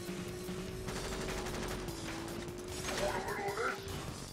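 The machine gun weapon fires in the racing combat game Jak X: Combat Racing, a rapid string of quiet, rattling shots beneath a steady engine drone, with some heavier bursts of noise near the end.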